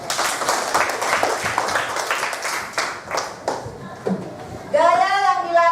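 Students in a classroom science lesson clap their hands together in a dense, lively burst that tapers off, then a voice starts speaking.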